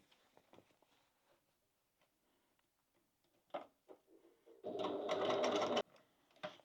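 A sewing machine stitches fabric for a crossbody bag in one short burst of about a second, preceded by faint ticking and handling noises as the needle is set in place.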